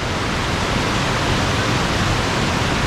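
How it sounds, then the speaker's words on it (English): Roaring waterfall at the base of Battle Creek Falls, a loud, constant broadband rush of falling water; individual rocks falling are not distinguishable within the steady roar. "we can still hear rocks coming down off the waterfall, hitting the bottom here"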